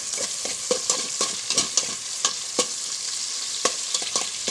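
Garlic frying in a pan until golden brown, a bright, close crackling sizzle with frequent small pops and spatters throughout.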